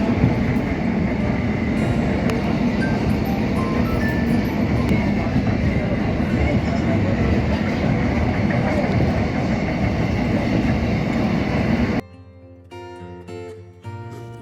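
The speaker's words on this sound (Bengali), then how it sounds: "আমরা গিয়েছিলাম দমদম থেকে মেট্রো করে দক্ষিণেশ্বর।" Kolkata metro train running from Dum Dum to Dakshineswar: a loud, dense rumble and rattle of the moving carriage fills most of the stretch, then abruptly gives way to a quieter, different sound near the end.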